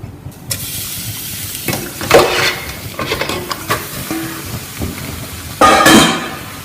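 Pieces of lamb drop into a hot pan with no oil and start to sizzle and hiss, with bursts of stirring and scraping, loudest near the end; close and fairly loud.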